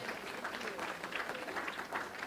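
A church congregation at a Sunday service gives a brief round of applause, a soft, distant patter of many hands clapping with a faint murmur of the crowd beneath it.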